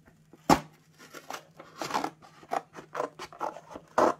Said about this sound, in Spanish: con un poquito de unas tijeritas, lo único que tiene que hacer es clavar